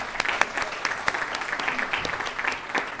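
An awards-gala audience claps in a steady, full round of applause, with sharp individual claps standing out from the dense crowd sound.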